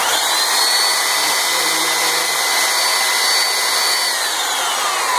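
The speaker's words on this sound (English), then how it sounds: "I think it's a matter of putting the sander upside down and pinning it somehow, and then taking your board." An electric sander used for cross grain veneer finishing whines loudly and steadily up close, a continuous motor drone with slight pitch shifts as the load changes.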